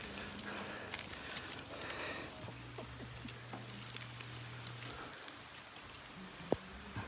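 A light drizzle patters faintly and steadily during an uphill bicycle ride on a Christmas outing, with a few soft scattered drop sounds and no voices.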